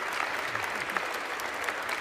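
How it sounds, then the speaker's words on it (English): Members of the House of Representatives applaud for Nancy Pelosi on the House floor, a dense, steady burst of clapping from a large room lasting about two seconds. "Clap, clap, clap."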